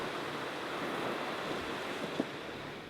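Ocean waves and surf at a New Hampshire state beach, a steady wash of breaking water with some wind noise and one brief knock near the end, with no voices.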